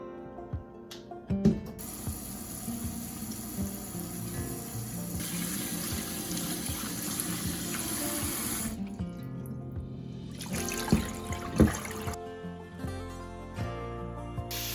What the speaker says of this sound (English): make sure you just rinse them until the water runs clear